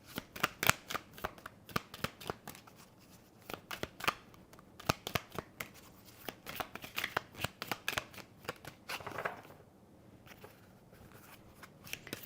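Tarot cards shuffled during a live psychic reading, a long run of crisp riffling and slapping bursts, close and fairly loud, with no talk over them.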